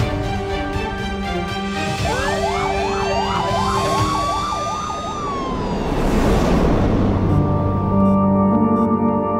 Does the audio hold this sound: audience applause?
no